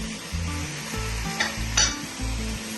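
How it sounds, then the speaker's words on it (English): Mutton sears in a hot pan with a steady sizzle, while repeated low scraping strokes of stirring and a couple of brief metallic clinks come through. "start searing the meat"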